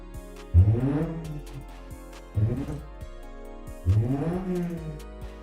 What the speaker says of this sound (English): He's revving